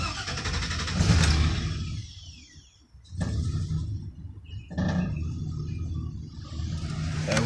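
A two-wheel-drive truck's LS 4.8-litre V8 idles and revs in a few loud bursts, with dips between throttle blips and faint bird sounds in the background.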